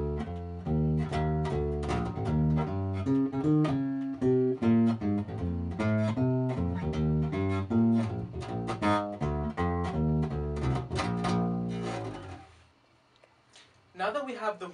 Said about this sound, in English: you can start making your own bass lines with relatively interesting shape